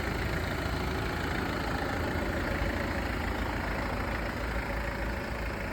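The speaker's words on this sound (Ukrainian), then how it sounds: "На вулиці зараз холодно, автомобіль працює ідеально. Серце двигуна працює гарно." A used car's engine idles on a cold day, giving a steady, even rumble with no variation and no voices over it.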